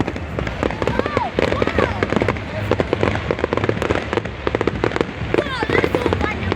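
Fireworks at a bonfire night event crack and pop in rapid irregular bursts, dense and loud throughout, while people nearby talk over them.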